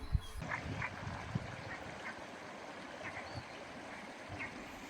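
A small river flows just behind a countryside spot in Morocco, a faint, steady trickle and babble of water with a few brief, soft sounds scattered through it and no talk.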